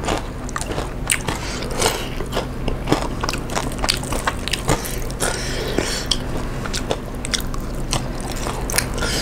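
Someone bites and chews spicy KFC fried chicken coated in sauce. Close, wet, crackly bites and chewing repeat in an irregular rhythm for several seconds, with no talking.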